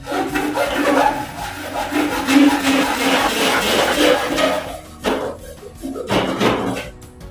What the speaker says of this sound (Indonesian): saya coba memotong dengan menggunakan gergaji besi